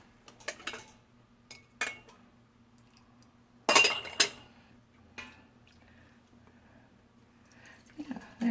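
Glass jars being filled with chicken stock clink sharply a few times, close and fairly quiet, with one louder knock among scattered small taps.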